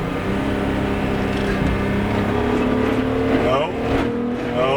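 A VW Golf VR6 on lowered suspension revs its engine, a loud, steady mechanical drone that rises and falls in pitch, close by, with voices talking over it.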